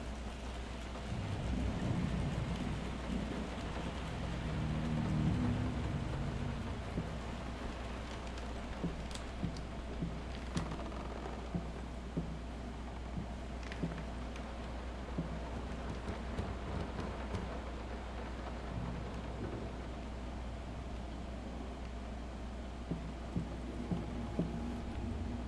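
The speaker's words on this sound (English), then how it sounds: "Will this storm ever run out of rain?" Steady rain pours during a thunderstorm in a horror video game, with a low rumble of thunder early on and scattered sharp drips and taps over the constant hiss.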